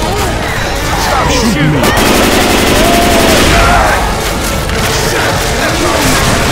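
Dense, loud gunfire from Left 4 Dead 2, a video game, with rapid overlapping shots and heavy booms filling the whole stretch, while players talk underneath the chaotic firefight.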